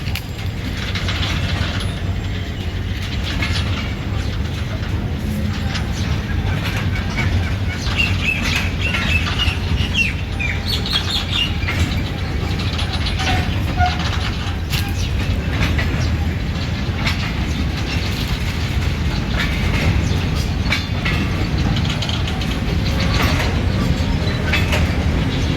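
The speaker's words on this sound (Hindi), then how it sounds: "फाइनली टाइम है फ्रेट ट्रेन के यहाँ से जाने का" A long freight train of about forty wagons pulling out of a semi-abandoned railway station, steady rolling rumble with rhythmic clanks and squeals of couplings, loud and continuous.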